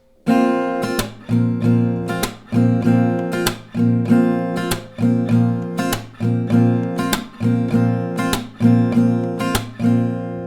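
Acoustic guitar strummed close up in a repeating down, up, clap, down pattern, with sharp percussive hits and chords ringing in a steady, even rhythm.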